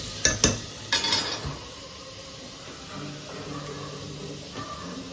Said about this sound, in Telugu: మనం స్పూన్తో కలుపుకోవాలి.